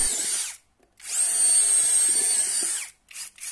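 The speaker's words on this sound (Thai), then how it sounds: "มันก็สามารถขันสกรูแล้วก็สามารถเจาะแบบธรรมดาเอาไว้สำหรับงานเจาะไม้เจาะเหล็กได้ด้วยนะครับ" A CANLIDI CID-80-S cordless clutch screwdriver with drilling function whines loudly up close in two runs: a short burst, then a longer sustained spin, followed by a few quick blips.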